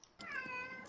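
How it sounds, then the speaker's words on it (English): A single cat meow, close and fairly quiet, rising and falling over under a second with nothing else around it. "It's the cat. Fucking meow!"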